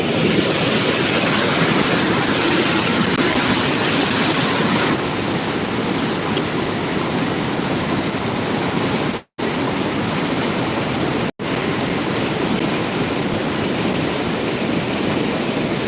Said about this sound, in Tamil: அதில் எவ்வளோ தண்ணி வருதுன்னு பாருங்களேன்